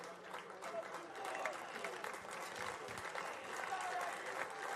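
A crowd of about a thousand fans at a collegiate summer baseball game claps and cheers steadily throughout, a dense, distant wash of applause with scattered shouts.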